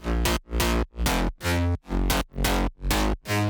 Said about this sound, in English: And with effect it sounds like this.